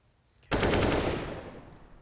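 Gunfire in Counter-Strike fired through a window and under a small roof in a wallbang attempt, a dense burst of rapid shots starting abruptly after a short silence, loud and close, then decaying in a reverberant tail.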